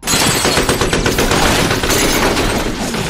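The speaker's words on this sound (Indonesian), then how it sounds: "Kigen dan anak buahnya menembaki markas Jimmy secara membabi buta" Dense film gunfire as a gang shoots blindly at a hideout, a relentless rapid barrage of overlapping automatic bursts at full loudness with no pause.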